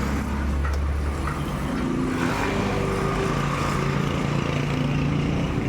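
Honda Beat Fi scooter that had a check engine error 12 starting up, its small engine settling into a steady buzzing idle, close by and continuous.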